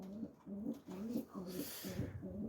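Racing homing pigeons in a loft coo in soft, repeated throaty phrases, several calls overlapping in a steady rhythm at close range, with faint chirps now and then.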